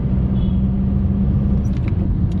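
A Skoda Octavia drives along a road, its interior filled with a steady, loud low rumble of engine and tyres, with faint rattles and knocks from the car bouncing over the surface.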